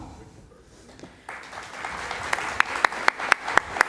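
An audience at an Ohio House 68th District candidate debate breaks into applause that swells and holds steady, with sharp claps and a few loud individual claps standing out near the end.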